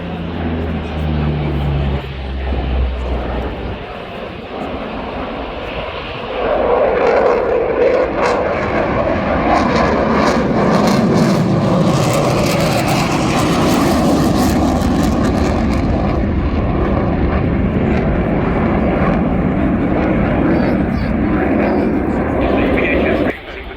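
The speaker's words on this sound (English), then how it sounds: "here we go, the two Austrian Air Force direct flight Typhoon" Two Austrian Air Force Eurofighter Typhoon jets perform at the Royal International Air Tattoo airshow. A loud, broadband jet roar swells in after a quieter start and holds steady and close for the remaining time.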